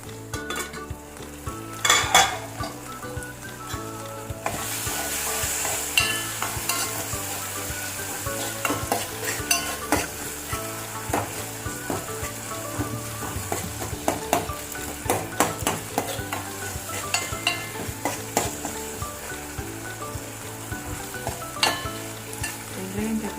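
Onions and tomatoes sautéing for a brinjal kara kuzhambu, loud sizzling with repeated spatula scrapes and taps against the pan, continuous and close, without talking.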